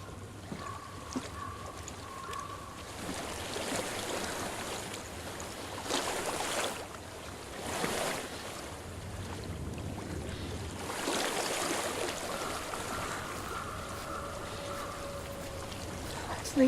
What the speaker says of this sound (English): I hear water. Go to it.